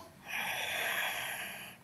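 A long, deep inhalation during a belly-breathing exercise on a mat, drawn steadily through the airways for about a second and a half, close and breathy with a soft rising hiss.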